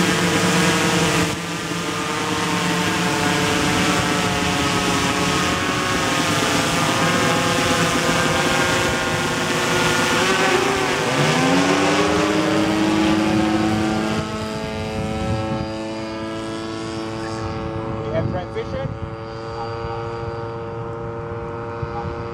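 CanberraUAV Porter OctaQuadPlane drone taking off with a loud, steady multi-rotor whine and buzz, its pitch sweeping and shifting midway as the motors change speed, close and continuous throughout.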